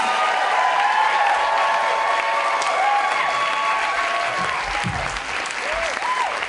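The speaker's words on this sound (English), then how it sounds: "let's make some noise for Andre Aldana on the drums." A crowd claps and applauds loudly and continuously, with some cheering and a few voices calling out over the clapping.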